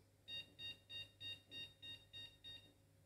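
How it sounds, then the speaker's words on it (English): A 486-era motherboard with a Cyrix 486DLC processor sounding a POST beep code for a missing VGA card, eight short evenly spaced high beeps in a steady rhythm, moderately quiet and alone. "it may give us a beep code that says, hey, there is no VGA card installed"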